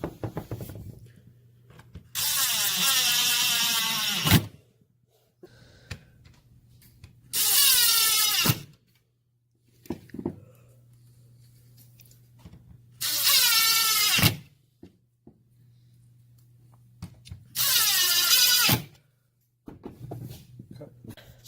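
A power drill drives number 8 countersunk screws into a door galley assembly in four separate whirring runs of about two seconds each, close and fairly loud, with quiet pauses between them.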